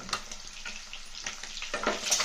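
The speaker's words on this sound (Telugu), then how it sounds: "ఇప్పుడు ఈ గుడ్లు కొంచెం లైట్ గోల్డెన్ బ్రౌన్ వచ్చిన దాకా వేయించాలి" Boiled eggs fry with turmeric in a pan for egg pulusu, a moderate sizzle and hiss broken by soft stirring noises.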